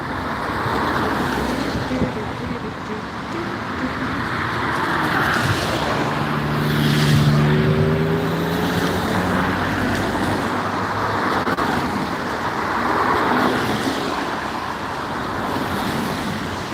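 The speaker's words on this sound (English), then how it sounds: "traffic." Night road traffic rumbles in a continuous wash of passing cars, with one vehicle's engine tone rising and falling as it goes by, moderately distant and steady throughout.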